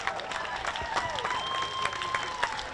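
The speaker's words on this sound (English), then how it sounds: "Give Mr. Thompson another round of applause." A crowd claps and cheers at an outdoor rally for justice in Minneapolis, with moderate applause under faint background tones and murmuring voices across a few seconds.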